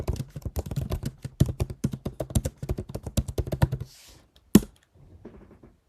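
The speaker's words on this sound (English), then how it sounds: "I'm on here like academics typing like this." Rapid typing on a computer keyboard, a close, steady run of sharp key clicks for about four seconds, then a pause, one loud hard tap, and a few soft faint clicks trailing off.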